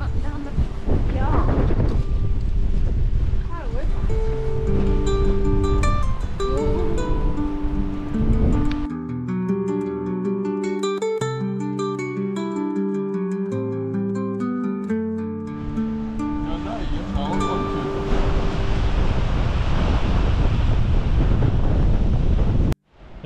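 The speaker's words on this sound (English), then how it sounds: "It's really windy." Strong wind buffets the microphone on a coastal footpath near Port Isaac, Cornwall, a loud, continuous roar with surf-like rumble; it eases briefly midway, where music and voices come through, then surges back. People talk over it.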